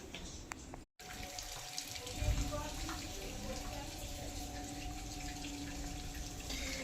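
Tap water runs in a steady, continuous stream for bathing, a close, even rush that keeps going throughout with a brief cut near the start.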